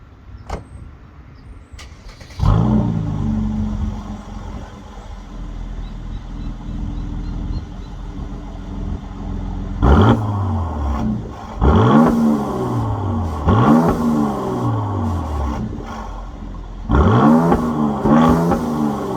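A Mercedes-Benz C43 AMG Coupe engine cranks and fires with the exhaust valve open, idles with a deep rumble, then revs sharply several times, each rev rising and falling through a loud exhaust.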